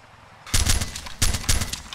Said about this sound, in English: there's been some gunfire coming over here from these barracks